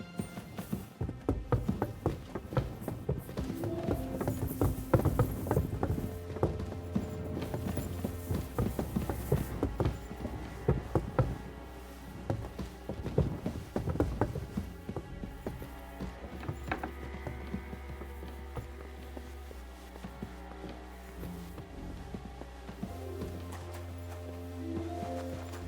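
Horse hooves clip-clopping in Kingdom Come: Deliverance II, a steady close patter of steps mixed with game music and ambient noise, occasional clunks over the top.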